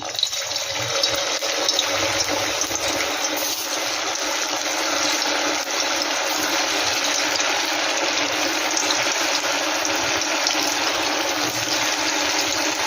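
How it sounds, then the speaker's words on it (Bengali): Sago pakoras are dropped into hot oil and fry with a loud, continuous, even hiss that holds steady throughout without pause. "দেখো এদিকে আমার তেলটাও গরম হয়ে গেছে, আমি এবার দিয়ে দিচ্ছি।"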